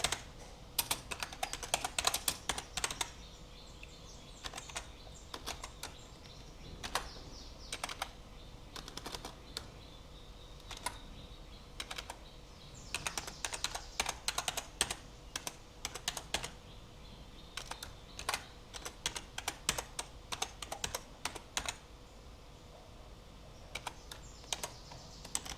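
A computer keyboard typed at a command prompt while cloning a software repository, with quick bursts of key clicks and short pauses running steadily throughout, close and moderately quiet.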